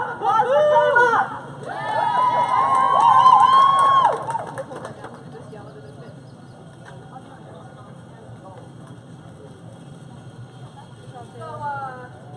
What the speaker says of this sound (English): applause for Kayla!